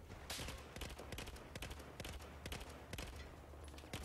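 Rapid rifle gunfire from the Battlefield 4 video game campaign cracks out in a steady string of evenly spaced shots, fairly faint and alone without talk.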